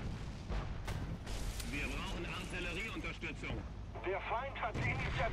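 Artillery strike in War Thunder during a tank battle with a Japanese Chi-Nu, heavy booming impacts rumbling under a continuous low din, with scattered higher tonal sounds and faint background chatter.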